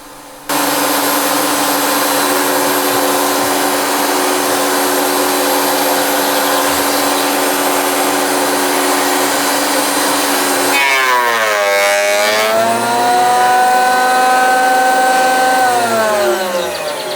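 Makita 2012NB thickness planer running loud and steady, a sustained whining machine drone with high tonal hum that then shifts pitch as a board feeds through, cutting with a rising, wavering roar.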